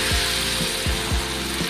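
Rice vermicelli dropped into hot oil for crispy noodle snacks, heard as a steady loud sizzle with several quick bursts of crackling as batches hit the oil.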